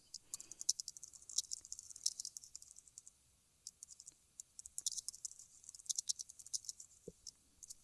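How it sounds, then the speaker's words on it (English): Rapid, uneven clicking of a computer keyboard as a short tweet is typed, close and quiet, in bursts with a brief pause near the middle. "If I want to just post a tweet, I could just type it right up here."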